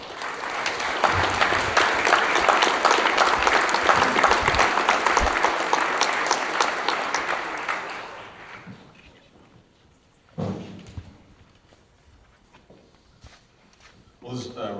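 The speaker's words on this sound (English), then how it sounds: "And so I think we just owe them a huge round of applause." Audience at an Eastland County Commissioners Precinct 2 debate applauds loudly for about eight seconds before the clapping fades into a quiet room with a few scattered small noises.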